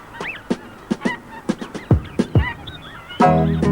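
Snow geese honk again and again in sharp, loud separate calls, and near the end they break into a denser burst of overlapping honking.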